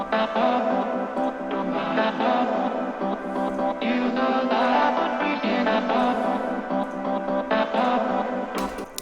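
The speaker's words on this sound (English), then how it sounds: "I have a reverb, pretty normal one, low cut to almost 1K, and decay pretty high." Distorted vocal chops drenched in long-decay reverb play continuously in a dense, echoing electronic mix produced in FL Studio, with the reverb low-cut and no talking over it.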